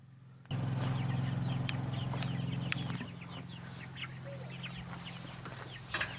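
Hens in a backyard coop on an Alaskan homestead cluck softly and intermittently over a steady low hum of background noise, with a few sharper calls near the end.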